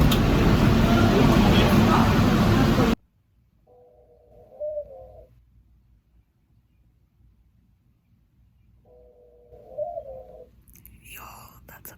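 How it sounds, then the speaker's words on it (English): A bird, likely a pigeon or dove, coos outdoors in New York City: two separate short calls several seconds apart, fairly faint, after a burst of loud broadband noise cuts off. "Yo, that's a bird."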